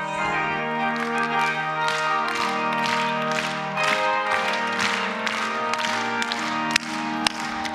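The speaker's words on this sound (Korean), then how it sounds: "다 일어나셔서 우리 힘차게 박수 치시면서 성령 충만 받기 위해서 찬양합니다." A church congregation at a Korean Sunday worship service claps rhythmically and steadily along with sung praise, with regular sharp hand claps over sustained singing and instrumental accompaniment throughout.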